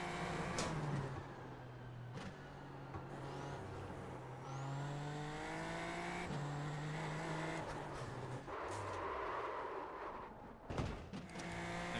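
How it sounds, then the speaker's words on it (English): A Super Formula Lights race car in the iRacing sim on the Nürburgring GP circuit. The engine revs hard through rising gear shifts, followed by a short, sharp impact thump near the end. "First little crash of the session, no damage, so we'll be fine."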